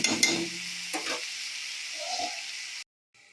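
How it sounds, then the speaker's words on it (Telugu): Tomatoes and tamarind fry in a pan with a steady, close broadband sizzle and a few stirring scrapes, then the sound cuts off abruptly near the end. "ఇంకా అన్నీ టమోటా కూడా ఉడికేదాకా వేయించుకోవాలి, వేగేదాకా వేయించుకోవాలి."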